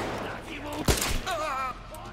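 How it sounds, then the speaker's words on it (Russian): A single sharp gunshot from Metro Exodus cracks out amid the game's sound, close and loud, while someone talks over it. "Да вот опять же в голову же стреляю"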